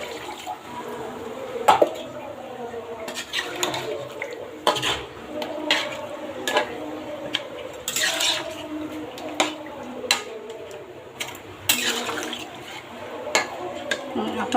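Liquid gravy is poured into a pot of country rooster curry while a utensil clinks and scrapes against the pot, with a person talking over the cooking.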